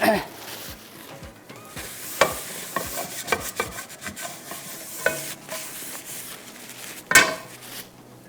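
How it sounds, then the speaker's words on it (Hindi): Steady oil sizzle of fish shallow frying in a frying pan, with frequent scraping and clinks of a utensil against the pan, close up, with a few sharper knocks along the way. "इसमें जाएगा ऑयल और इसको हम फ्राई कर लेते हैं"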